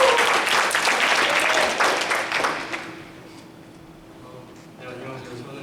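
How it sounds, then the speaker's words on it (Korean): Congregation applause during a Sunday youth worship service at a church in Auckland, a dense, fairly loud clapping for about three seconds that fades out, followed by a voice beginning to speak. "박수 한번 주세요."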